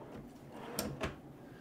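A pull-out slat pantry drawer with soft close in a tiny-home kitchen slides and settles with two quiet soft knocks, close but faint, with no talking.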